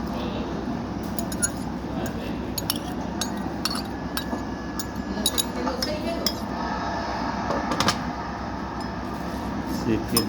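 Apple pieces tumble into a bowl for a cream fruit dessert, producing light clinks and clatters of utensils and dishes scattered across the span, under ongoing talk.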